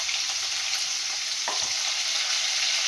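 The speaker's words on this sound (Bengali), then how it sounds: "আমি এর মধ্যে পনিরগুলোকে একটু হালকা করে ভেজে নেব।" Paneer frying lightly in white oil in a pan gives a steady, close sizzle that runs throughout, with a brief stir or clink near the middle and no one speaking.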